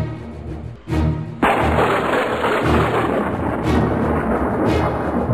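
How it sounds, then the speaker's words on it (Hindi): A thunderstorm with heavy rain: a sharp, loud thunder crack gives way to a roaring downpour, and more rumbling crashes break through the dense, continuous rain. "विशाल बादल इकट्ठा हुआ और धुआंधार वर्षा प्रारंभ हुई।"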